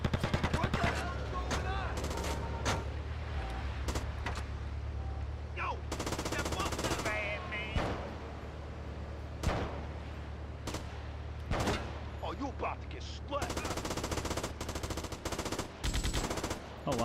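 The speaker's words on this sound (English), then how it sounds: "Oh wow, the M60, it's like a one-hit kill despite it being a machine gun." An M60 machine gun fires in GTA: Liberty City Stories, with loud, close bursts of automatic fire repeating across the scene and someone talking between them.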